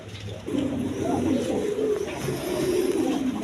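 A pair of colored Rajgolla pigeons coos in low, throaty rolling calls, close and continuous after a brief quiet start, with soft background murmur.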